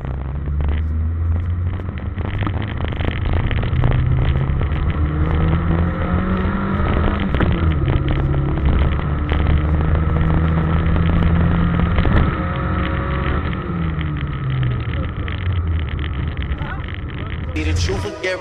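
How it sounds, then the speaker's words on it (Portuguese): A Chevrolet Onix Turbo engine revs hard in a low, droning rumble, with its pitch rising and falling through a couple of throttle blips, close and loud under a constant background mix. "apareceu com o Onix Turbo. Aí deu uma aceleradinha aí."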